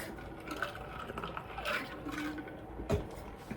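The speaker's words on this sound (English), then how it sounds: "Let me get some water real quick." Water is poured into a cup or glass for a drink, a short, quiet trickle of liquid with a couple of soft knocks in an otherwise calm room.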